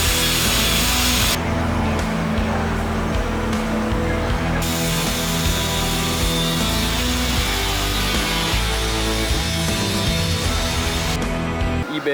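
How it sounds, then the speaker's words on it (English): Power saw cutting through the factory radiator support of a BMW 335i during a radiator swap, a loud, continuous harsh grinding and rasping that runs steadily for the whole stretch with only slight shifts in pitch. "properly fit by cutting the OEM support for the radiator just a little bit on the top"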